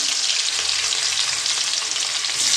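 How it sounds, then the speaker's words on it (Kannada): Chopped onions frying in hot oil for egg masala, giving a loud, continuous bright sizzle with faint stirring underneath. "ಎಣ್ಣೆ ಸ್ವಲ್ಪ ಕಾಯಿಲಿ ಈಗ ಕಟ್ಟು ಮಾಡಿಟ್ಟ ಈರುಳ್ಳಿ ಹಾಕುತ್ತಿದ್ದೇನೆ"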